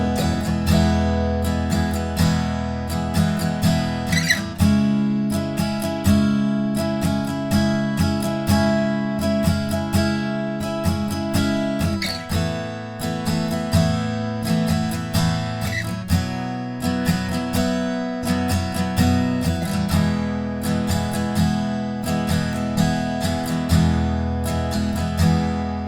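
An acoustic guitar strums the verse chords of a song in a steady down-up pattern, ringing chords repeating evenly and close up, with no voice.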